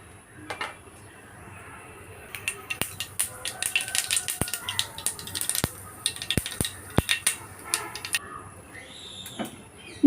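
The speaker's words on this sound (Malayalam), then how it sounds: "ഇനി ഇതിലേക്ക് ഞാൻ കടുകാണ് കേട്ടോ ഇട്ട് കൊടുക്കുന്നത്." Mustard seeds spluttering in hot coconut oil make sharp, irregular pops and crackles that build from sparse to dense, close and fairly loud, with no voices.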